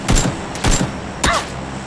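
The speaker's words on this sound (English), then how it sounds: "His buddy's shooting me." Gunfire in PUBG, three sharp shots spaced about half a second apart, loud and close, with faint in-game noise between.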